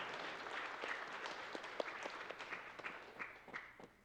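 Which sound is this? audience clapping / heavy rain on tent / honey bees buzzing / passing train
audience clapping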